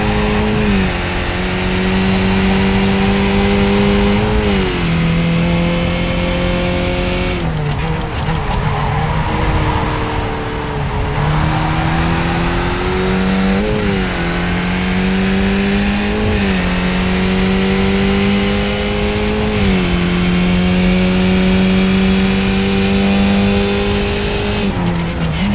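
A race car engine in a racing video game revs loud and continuously, pitch climbing and dropping through gear shifts, with tire squeal and skidding as the car drifts through corners on a Japan track.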